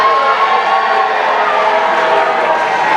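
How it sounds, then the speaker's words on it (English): A large football stadium crowd roars continuously, a steady loud wash of mixed cheering and booing that holds without a break from start to finish. "Ooh, a divided crowd this evening."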